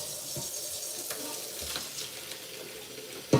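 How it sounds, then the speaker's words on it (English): Water runs from a kitchen tap while rice is rinsed, a steady close splashing hiss with occasional knocks and a sharp clatter at the end. "I'm finna rinse that rice off"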